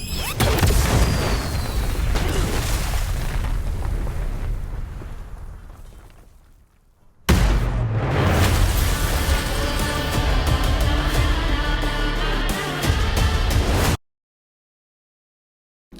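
Rocket explosion in a superhero film action scene: a dense, loud blast and rumbling destruction fill the first half, fading out before a second burst of booming, crashing chaos with layered music, then sudden silence.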